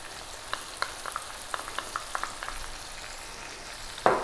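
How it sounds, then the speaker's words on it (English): Tomato paste frying in a pot of garlic chicken stew, with soft scattered sizzles and pops, a few louder spatters, and a sharp stir or scrape at the end. "I just want to kind of cook the tomato paste out a little bit in there"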